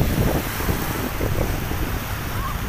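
Ocean waves washing onto the shore at Changi Beach, Singapore, with a cargo ship offshore, form a steady broadband surf wash mixed with wind buffeting the microphone, continuous and fairly close with no talking.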